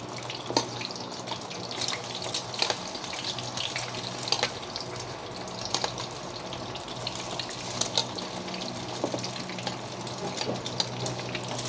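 Steady sizzling and crackling of food frying in a pan, dense and continuous, with occasional sharper pops and splashes close by.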